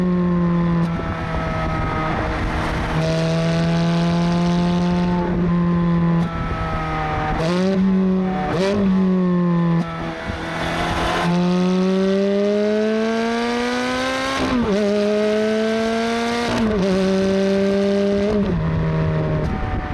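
A 2007 Ferrari F430 Spider V8 revs hard and accelerates through several gear changes on an open road, the engine note climbing and dropping repeatedly, loud and close with wind noise throughout.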